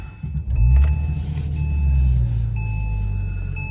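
A 2007 Porsche 911 Turbo cranks and fires up cleanly, a brief starter whirr giving way to a low rumbling idle that swells then settles, heard close from inside the car with no talking.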